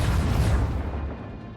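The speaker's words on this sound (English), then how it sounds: "Unleash the storm of macro cannons." Spaceship macro cannons fire in the video game Rogue Trader, a loud, dense booming barrage with deep rumble that quickly tails off into a fading roar.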